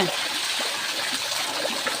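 Water running steadily from a tap while ducklings are bathed, a continuous, even hiss-like flow at moderate level with no break and no talking.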